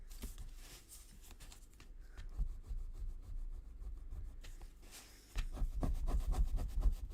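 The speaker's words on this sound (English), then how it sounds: "Burnish everything into place." Card stock being burnished flat with a tool in a papercraft folio project: steady rubbing and scraping strokes, soft and close, growing louder and more vigorous toward the end, with no talking.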